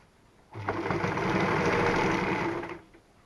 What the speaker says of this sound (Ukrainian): Пришиваю її спочатку з другої сторони, а потім перевертаю і ще раз прокладаю строчку вже з першої сторони.